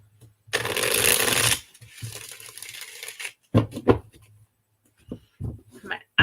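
Cards for a reading shuffle in a dense burst of riffling at close range, followed by scattered taps and soft card handling.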